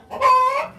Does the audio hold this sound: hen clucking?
yes